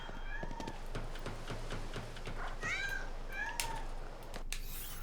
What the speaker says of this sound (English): the noises those cats make is driving me up the wall